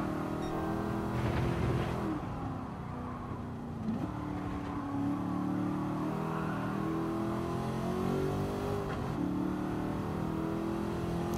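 The engine of a De Tomaso Pantera in Gran Turismo 7, racing in a time trial, holds a steady drone that rises and falls through the gears. It sits fairly close with no talking over it.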